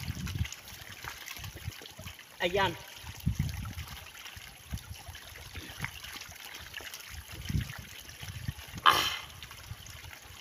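Fresh spring water trickles steadily on a mountainside, a soft continuous running sound with a brief spoken word partway through.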